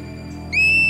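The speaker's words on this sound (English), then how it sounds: "This piercing whistle sends an urgent message to the colony." Marmot alarm whistle from a guard on watch over the colony: a single loud, piercing, steady high whistle that starts abruptly halfway through and holds to the end over a quiet outdoor background.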